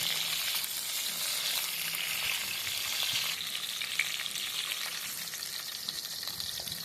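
Eggplant pieces frying in hot oil for a curry, giving a steady, close sizzle with soft bubbling and occasional faint stirring, no voices.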